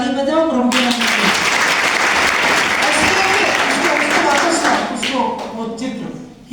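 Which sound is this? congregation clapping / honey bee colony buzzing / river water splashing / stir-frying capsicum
congregation clapping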